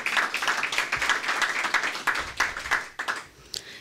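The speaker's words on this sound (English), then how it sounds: "Again, worth a clap." Audience clapping during a presentation on African American student performance, a fairly close, uneven patter of hands that rises and dips, thinning out toward the end.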